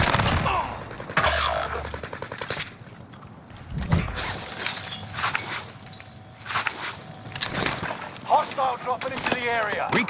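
Gunfire bursts and shattering impacts crackle through a battle royale video game, mixed with footsteps, game announcer lines and excited player chatter, rising and falling in uneven volleys.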